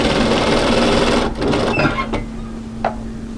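A sewing machine runs fast, stitching the seam of a knit hooded jacket with a stretch needle, a loud close whirring drone that slows and stops partway, followed by faint handling clicks.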